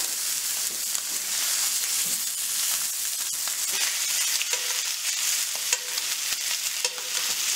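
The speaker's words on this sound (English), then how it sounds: "Add just a teaspoon of butter" Butter sizzles hard in a hot pan beside a seared pork tenderloin, a steady bright crackle that runs throughout, with a few small clicks and pops rising above it.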